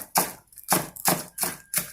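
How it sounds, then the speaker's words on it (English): A knife chops shallots and vegetables on a cutting board in five crisp, evenly spaced strokes, close and clear with no talking. "grab the squeeze shallots and then gently chopping"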